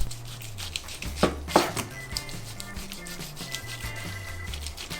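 A knife slices roast pork chashu on a board with a few soft, uneven chops and thuds, close by and fairly quiet.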